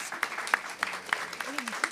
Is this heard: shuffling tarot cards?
no